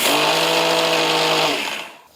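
A mixer grinder jar whirs loudly as it briefly pulses roasted sesame seeds, giving a steady motor whine for about a second and a half before it winds down.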